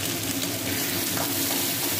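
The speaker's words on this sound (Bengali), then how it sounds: "এখানে মাছের মাথাগুলো ভাজা হচ্ছে" Fish heads frying in a pan in a home kitchen, giving a steady close crackling sizzle with light bubbling throughout, no voices over it.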